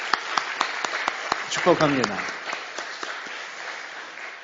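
An audience at a church teachers' workshop claps together in steady applause, with a voice speaking over it.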